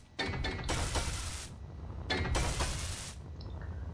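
Welding blocks in the video game Space Engineers: two sustained bursts of buzzing, spraying mechanical hiss, each lasting about a second, separated by a short pause, with a quieter whir trailing at the end.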